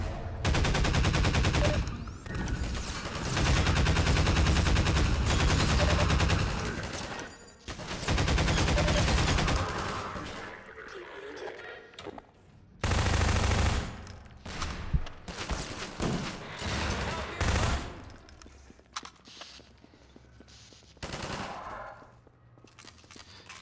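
Gunfire in the video game Half-Life 2: long bursts of rapid automatic fire and dense shooting, broken by short pauses and scattered single shots, loud and close.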